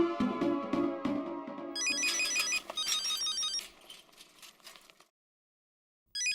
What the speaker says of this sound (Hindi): फोन लगाओगे? मैं लगाता हूँ।